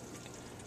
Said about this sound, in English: When the waterfall is running, as I'm going to turn it on right now,